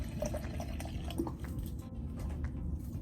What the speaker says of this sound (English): So let's just go ahead and add my water.